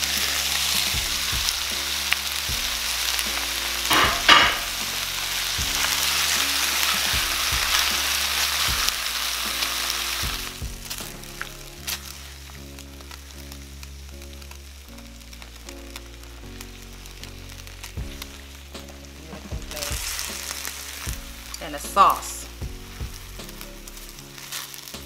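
Beef strips for pepper steak frying in a thickened glaze, a strong hiss and bubbling sizzle that fades to a quieter crackle midway and then swells again, with occasional utensil scrapes, close and unspoken over.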